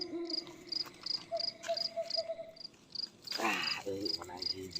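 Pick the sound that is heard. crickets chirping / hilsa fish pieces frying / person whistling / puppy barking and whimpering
crickets chirping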